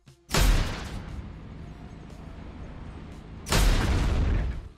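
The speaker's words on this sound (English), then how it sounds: "And that's the sound of getting critical damage from an opponent." Tanki Online tank game sound of taking critical damage from an opponent: two loud, sharp booming blasts about three seconds apart, each with a rumbling tail, close and without speech.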